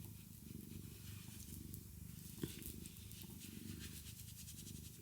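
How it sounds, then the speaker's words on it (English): A steady, continuous cat purr rumbles close by for the whole stretch, with a soft faint click partway through. "purring so loudly"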